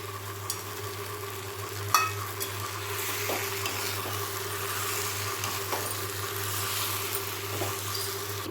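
Continuous stirring and gentle sizzling of fried gongura leaves in a pan, with occasional soft scrapes and a light clink of a utensil, close by and steady.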